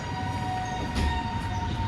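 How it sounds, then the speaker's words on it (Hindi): A train bound for Lahore rumbles past with a steady low roar and a faint sustained tone, continuous and fairly loud throughout, with no speech. "लाहौर टाइम जा रहा है जी रेलगाड़ी"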